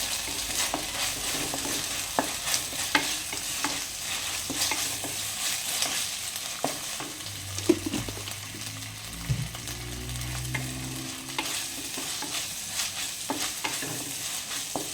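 Garlic-ginger paste frying for a chicken gravy, with a steady broad sizzle and repeated spoon scrapes and taps against the pan over about fifteen seconds; no one speaks.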